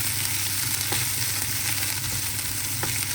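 Ginger and garlic fry in a hot pan, giving off a steady, close sizzle that holds at an even level throughout, with a few faint stirring clicks and no voices.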